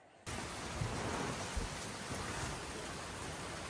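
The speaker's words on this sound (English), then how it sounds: "but it was raining outside." Steady heavy rain pours down outside, a dense close hiss that starts abruptly, with faint low rumbles of distant thunder beneath it.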